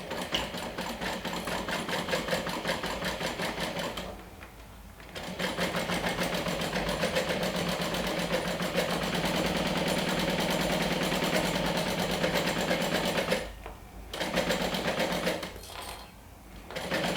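Sewing machine top stitching a fabric wand holder, a fast steady mechanical whir that runs for several seconds, stops briefly, runs again at length, then pauses twice more, close and clear.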